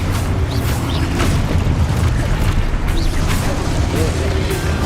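Booming spell blasts from Hogwarts Legacy combat, including the Expulso explosion spell, land in a rapid series of deep, rumbling bursts over a continuous low roar of battle effects.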